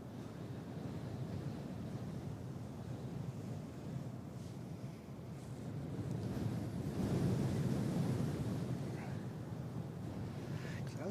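Wind gusting outdoors at Christchurch Airport around sunset, a continuous rumbling buffet across the microphone that swells midway, steady and fairly faint, with no talk.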